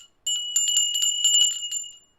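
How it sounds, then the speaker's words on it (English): Tinkly bells ring in a quick run of bright, overlapping chimes, fairly close and clear, lasting about two seconds with no talking. "Tinkly bells."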